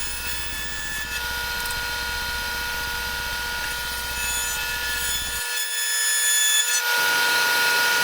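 A power tool bit bores a mortise in mahogany, giving a steady high whine with a low rumbling grind that cuts out abruptly near the end before the motor continues alone, close and moderately loud.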